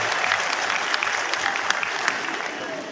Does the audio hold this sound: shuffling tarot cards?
no